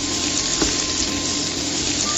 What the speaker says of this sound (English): Then, I'll pour in the tomato juice and stir it until everything is well combined.